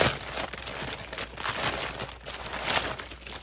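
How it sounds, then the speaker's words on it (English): Plastic packaging of a stamped cross-stitch kit crinkled and handled up close, a continuous rustling with a few louder crackles and no talking. "I will try to cut out some of the crinkling if I can"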